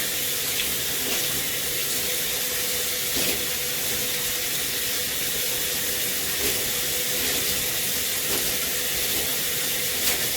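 Tap water runs steadily into a sink while hair is rinsed, a continuous close hissing splash with small irregular spatters.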